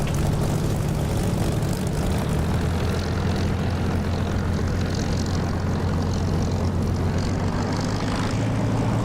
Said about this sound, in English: Incidentally, I'm using the Echo 19 Spitfire engine sound.